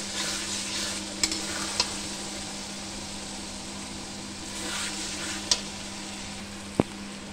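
Spice paste for two kilos of chicken curry, made with only chilli and turmeric, gently sizzling and frying in a pan while being stirred, with a few faint scraping clicks and a sharper tap near the end.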